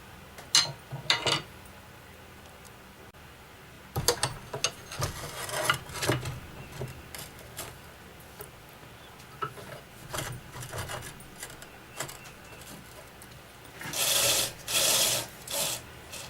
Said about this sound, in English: gonna go in here nice and easy, do some cutting, riding the bevel towards the center as much as I can